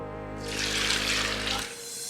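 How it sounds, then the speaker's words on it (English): Water poured from a container onto oats for homemade oat milk, a steady splashing rush lasting over a second, close and fairly loud with no talk. "I'm gonna add 4 cups of water."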